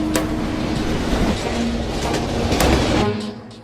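Runaway freight train speeding downhill toward San Bernardino, a loud continuous rumble with clattering bursts and a steady hum, fading slightly at the end.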